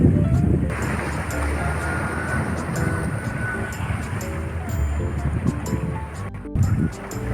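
Waves on the Bay of Bengal roar and wash in a continuous surge, with wind buffeting the microphone, while someone talks steadily over the sea sound throughout.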